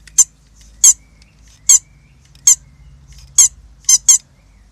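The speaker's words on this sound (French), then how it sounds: "le petit détail qui tue, c'est ce petit tigrou pour l'avertissement sonore" A small squeaky Tigger toy horn on a mini cargo bike, worked by a cable from a lever on the handlebar, gives about seven short, sharp squeaks. Two of them come in a quick pair near the end, close up over a low background hum.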